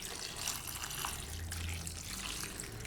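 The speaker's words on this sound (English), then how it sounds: "Fill our container with some water." Water pours from a pitcher into a flower centerpiece container, a steady soft splashing and trickling stream, close and continuous, with no talk.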